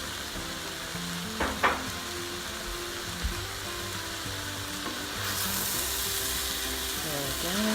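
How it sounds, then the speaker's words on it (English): Mushrooms sautéing in a pan for a vegan mushroom barley soup, a steady soft sizzle with a couple of brief utensil clicks and scrapes early on, the frying hiss growing a little brighter toward the end. "Now I'm going to add the mushrooms"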